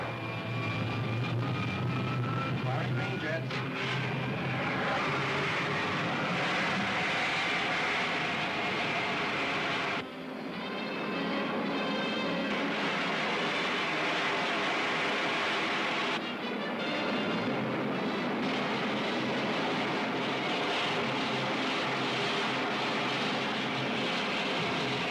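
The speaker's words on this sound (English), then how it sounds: "Fire pilot jets. Fire screen jets." Rocket ship jets roar in a 1953 science-fiction serial sound effect, a loud continuous rushing and rumbling blast with a steady hum, dipping briefly twice before surging on again, with no voices over it.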